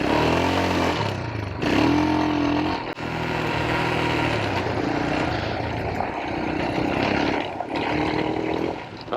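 A Royal Enfield Himalayan motorcycle engine runs loud and close, revving up and pulling away with shifting engine tones and a few throttle surges over several seconds, with no talking.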